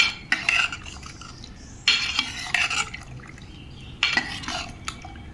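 A spoon stirs radish and vegetables for sambar in a metal pot, producing three bursts of scraping, clinking strokes separated by brief pauses, fairly quiet and close.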